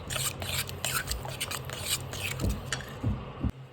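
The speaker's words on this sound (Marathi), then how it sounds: "याच्यामध्येच आपल्याला हे जे दुधामध्ये मसाला मिक्स केलेला टाकून द्यायचा आहे आपल्याला आणि मिक्स करून घ्यायचं" Masala-mixed milk being stirred into a thick paneer tikka masala gravy, a steady scraping stir of a spoon around the pan with a few sharper knocks near the end, close and fairly quiet.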